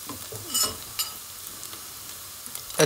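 Chopped onions frying for a chicken and turnip curry, a faint soft sizzle with a few stirring scrapes and taps, quiet and close.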